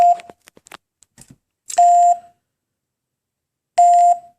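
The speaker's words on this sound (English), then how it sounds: "At 10 seconds, it'll beep twice per second." Loud electronic beeps from a 2Gig home alarm keypad arming: a long tone at the start, then two more spaced about two seconds apart, with faint clicks in between.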